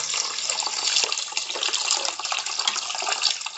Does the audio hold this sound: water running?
yes